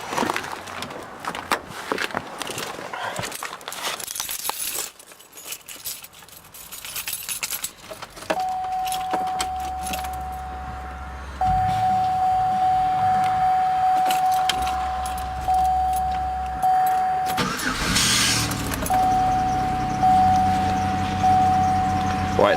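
A car engine cold-starting on an iced-over morning in the open, idling loudly with a steady high squeal running through it and intermittent jangling and knocks, no talk.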